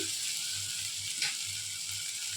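Ginger and tomatoes sauté in a pan with a soft, steady sizzle close by, a low hum underneath and one brief stir scrape midway.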